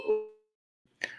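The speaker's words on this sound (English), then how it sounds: "That's the doorbell. I don't know why the doorbell's going." A doorbell chimes once, a short bright two-part ring near the end after a sustained tone and a pause.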